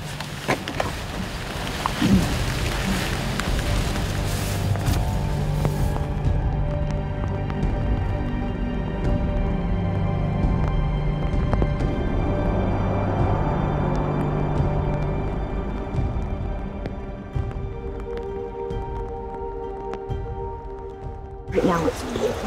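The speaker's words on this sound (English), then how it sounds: "Right now it's pouring down rain." Heavy tropical rain pours down during a big thunderstorm in the Congo forest, a dense continuous hiss with low rumbling, briefly dropping quieter midway before returning strongly.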